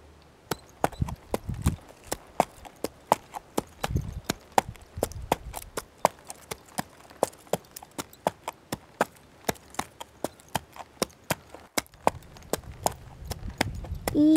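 A horse's hooves clip-clop at a steady walking pace during a trail ride, a long run of crisp evenly spaced knocks, close and clear, with faint softer sounds between the steps.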